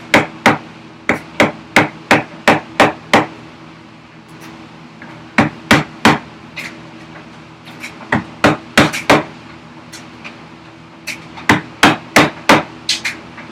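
A hammer taps a chisel into the wood of a workbench vise chop, giving crisp, close strikes in quick bursts of five or six evenly spaced blows separated by short pauses.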